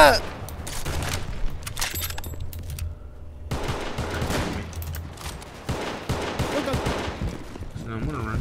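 Bursts of full-auto STG-44 fire in the Roblox game Unit 1968 crackle in rapid strings with pauses between them. A player talks over some of the shooting.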